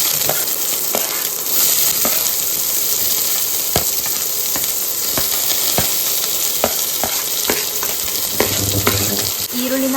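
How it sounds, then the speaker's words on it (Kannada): Sliced onions frying in hot oil in a pan for a south Indian egg curry, a steady close sizzle with occasional stirring clinks and scrapes throughout, no voices. "ಈರುಳ್ಳಿನ ಈ ಥರ ತುಂಬ ಚೆನ್ನಾಗಿ ಫ್ರೈ ಮಾಡ್ಕೊಳ್ಳಿ"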